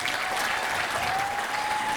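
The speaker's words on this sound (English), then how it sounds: "Give them a round of applause again." Steady, loud applause from a concert audience for a high school jazz band fills the whole moment, with a continuous dense wash of clapping and no voices.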